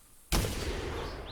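A single loud, booming gunshot goes off in the hunting video game theHunter 2017 as a turkey is shot, and a long, dense roar of echo follows it.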